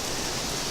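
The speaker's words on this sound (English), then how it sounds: "Apologize for the wind." Wind blows steadily outdoors on a blue-sky day after a week of heavy rain, a constant broadband rush with no gusty breaks, like a continuous hiss close to the microphone.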